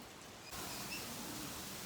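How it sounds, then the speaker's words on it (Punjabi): Rain falls in a steady, dense hiss driven by strong wind, with a louder gust-filled wash sweeping in partway through. "ਮੀਂਹ ਪੈ ਰਿਹਾ ਮੀਂਹ ਨੇਰੀ ਹਵਾ ਵੀ ਆ ਚੁੱਕੀ ਹੈ"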